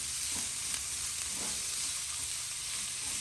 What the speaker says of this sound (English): Get my little spoon and we'll get this vegetables cooking down.